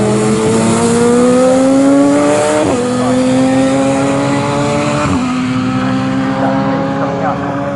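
A race car on a circuit during a Time Attack warm-up session brakes into a corner, its engine note falling in pitch through two downshifts. A commentator's voice runs over the loud, steady mechanical noise.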